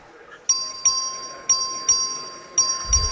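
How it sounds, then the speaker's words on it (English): A bell rings on the floor of a state House of Representatives in a series of sharp, bright strikes, about six dings with short gaps, each leaving a sustained ringing tone, fairly close. "I don't know who was ringing the bell"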